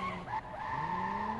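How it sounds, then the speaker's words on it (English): Car tires squeal briefly in a short skid over a steady engine drone in the video game Watch Dogs 2, close and fairly loud. "That's a loud car."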